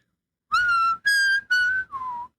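A person mimics a signal whistle with four clear, sustained whistled notes, the last one lower and shorter, loud and close with short gaps between them and no talking.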